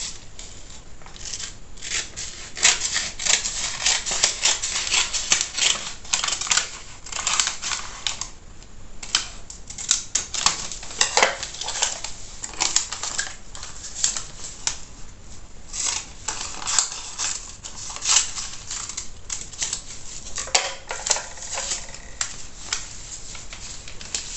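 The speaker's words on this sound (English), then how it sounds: "So here I have to cut this part out." Scissors cut fabric for the inner lining of a women's trouser pocket, giving a long run of crisp, irregular snips and rustles, fairly close, with no talking.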